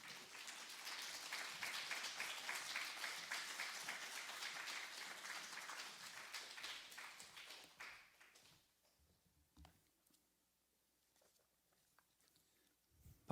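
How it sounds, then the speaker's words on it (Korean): A congregation at an early-morning church service welcomes the pastor with applause, a steady medium-sized round of clapping that lasts about eight seconds, then quick fading into quiet room noise with a few soft knocks and shuffles. "우리 목사님 올라오실 때 큰 박수로 환영하시면 감사하겠습니다."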